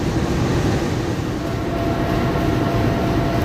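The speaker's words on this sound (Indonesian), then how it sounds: "ini dia kereta api Parahyangan. Persiapan berjalan langsung stasiun Padalarang." A Parahyangan passenger train at Padalarang station gives off a loud, steady rumble of wheels and running gear, a continuous broadband roar with no pauses.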